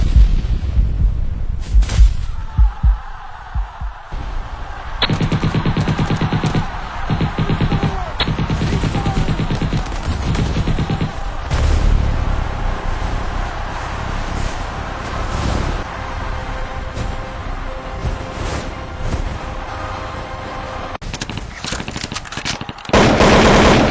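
Sustained automatic and rifle gunfire sounds loud and dense for most of the span, with rapid bursts and sharp cracks fired on a crowd, then it briefly drops away near the end before resuming.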